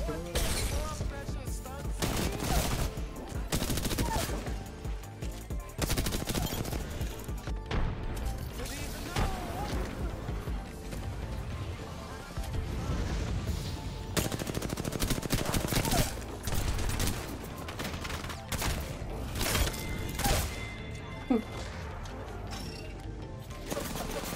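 Bursts of video game gunfire crackle in rapid volleys mixed with booms and in-game effects, loud and dense across the whole stretch, with a voice speaking briefly over the action.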